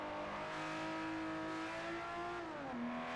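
A race car engine in Forza Motorsport 4 holds a loud, steady high-revving drone, then drops pitch sharply near the end as it shifts or lifts off, with no talking over it.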